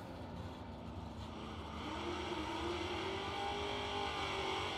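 At a drag race a pickup truck launches, its engine roaring and climbing in pitch as it pulls away. The sound is loud and steady and grows slightly over a few seconds, with no voices.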